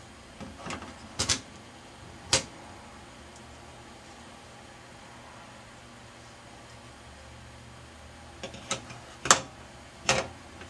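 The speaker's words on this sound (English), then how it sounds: "So let's load up some reels." Reels being loaded onto a Califone 70-TF school reel-to-reel tape recorder, giving a few sharp plastic clicks and taps near the start and a cluster near the end, with quiet handling in between.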